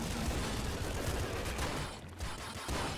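A blob gun fires in the video game Nuclear Throne, a dense, continuous stream of rapid wet, crackling shots that dips briefly before resuming.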